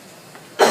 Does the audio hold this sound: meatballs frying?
no